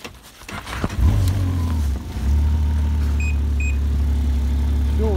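Snowmobile engine starting up and pulling away with dogs aboard, a loud close rumble that dips briefly then settles into a steady drone, with a couple of faint high beeps.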